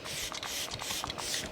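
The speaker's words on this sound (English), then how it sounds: "To bring my skin back to life, I'm gonna use a little bit of setting spray" A Makeup by Mario soft focus setting spray is misted onto a face in a continuous airy hiss with faint pulsing bursts throughout.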